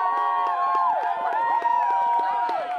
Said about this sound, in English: The audience is going to cheer for who they think won the face-off challenge.